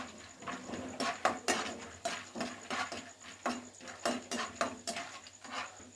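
Peanuts sizzle and crackle while frying in a pan for avil vilayichathu, a sweet flattened-rice dish, with dense, irregular bursts of spitting and popping running steadily at close range and no talk.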